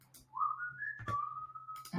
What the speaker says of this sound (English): I had my son come down, start whistling loud.